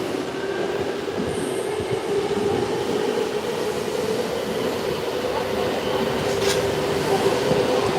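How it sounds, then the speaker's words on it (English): A subway train rumbles steadily through an underground station in Ginza, Tokyo, a constant roaring wash of wheels and air with a faint high squeal. "with the wind of the subway trains going by, you can hear that right now."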